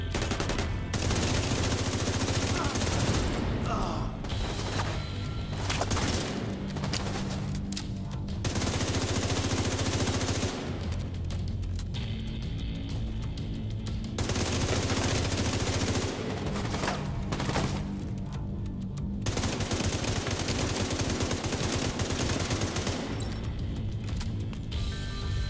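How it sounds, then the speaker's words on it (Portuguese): Sustained automatic gunfire from the shooter video game The Division 2, dense, loud bursts of rapid shots with crashes and short pauses, running almost nonstop. "Concentrando os tiros."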